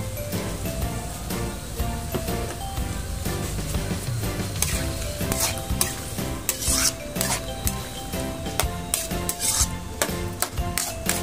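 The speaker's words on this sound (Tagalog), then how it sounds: "Halo-halo lang yan." Ginataang papaya with sardines is stirred in a pan, with a steady scraping and rubbing of the spoon against the pan over a continuous sizzle that lasts throughout.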